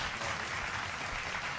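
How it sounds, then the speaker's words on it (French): A crowd applauds steadily after a 4-3 foot match victory, a dense even wash of clapping throughout at moderate distance with no clear voices. "On peut les applaudir"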